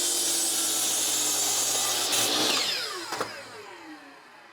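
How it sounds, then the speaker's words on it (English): A miter saw set at a 17-degree angle cuts through scrap wood, a loud, steady whine that peaks mid-cut and then spins down as the blade slows, with no voices. "Set your miter saw at 17 degrees."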